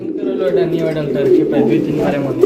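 Low, throaty cooing of a male Bombay pigeon rolls on steadily, with a murmur of speech mixed underneath.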